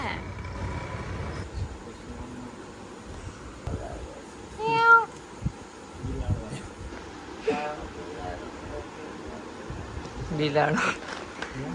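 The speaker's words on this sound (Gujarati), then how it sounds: "બિલાડો ને બિલાડી" Cats meow several times at close range, drawn-out calls spaced apart, while people talk in the background.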